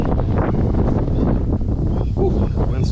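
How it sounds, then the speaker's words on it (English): Steady wind gusting across a fishing boat on open water, a constant loud rumble buffeting the microphone with no talk over it. "the wind's starting to pick up a little bit"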